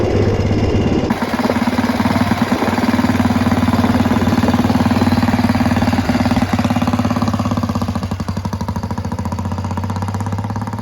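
A pre-war 1930s motorcycle engine pulls away in gear with a loud, close, steady thumping exhaust that holds a strong rhythmic beat throughout and eases slightly near the end.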